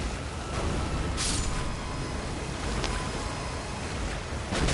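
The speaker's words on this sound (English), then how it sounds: "Looking behind this waterfall." A waterfall in Elden Ring: Shadow of the Erdtree gives a constant, dense rushing roar that stays loud and even throughout, with brief splashy surges on top.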